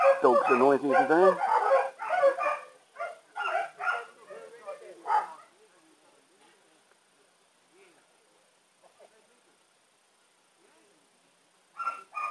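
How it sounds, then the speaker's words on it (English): Dogs bark in a quick run of loud, close barks and yips for the first five seconds, then quiet background with a brief bark burst at the end. "Dogs are noisy today."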